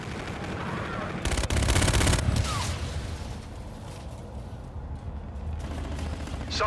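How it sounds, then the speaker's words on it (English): Gunfire in a first-person shooter match: a loud burst of rapid shots clusters in the first few seconds, over a constant game-ambience bed, with sparser, fainter shots and mechanical clatter following. "Shots out."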